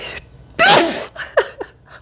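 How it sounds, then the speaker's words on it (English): A single loud, close sneeze bursts out with a sharp gasping onset, followed by a few softer breathy sniffs and exhales, with no talking. "I feel like I need to sneeze again."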